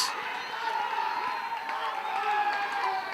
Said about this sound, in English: I guess you could hear the jubilation from the crowd